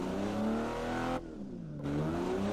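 A car engine in a car-building video game revs steadily and loudly, its pitch dipping briefly mid-clip and then climbing back, heard alone with no talk.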